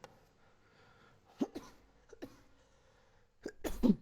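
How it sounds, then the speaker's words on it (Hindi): Coughing from a teacher during a class session, a few short harsh coughs spaced apart with a louder burst near the end, close and otherwise quiet. "खांसी परेशान कर रहा है।"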